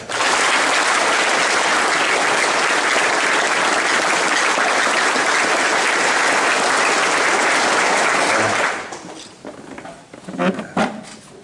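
Loud, sustained applause from an audience at a military battalion visit rolls on for several seconds, then stops abruptly and gives way to scattered voices and shuffling.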